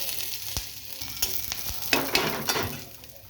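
Sliced onion and green chilies hit hot oil in a Bengali fish oil curry pan, giving a bright, busy sizzle with stirring scrapes and bursts of crackling that swell midway, close and with no talking.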